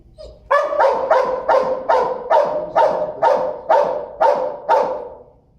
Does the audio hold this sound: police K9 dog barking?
yes